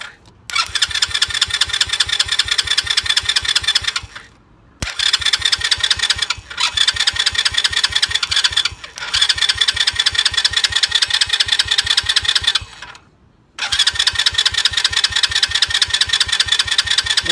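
A quad's engine is cranked through a starter solenoid wired straight to the battery, in several loud, close bursts of rapid rhythmic churning separated by brief pauses, without catching.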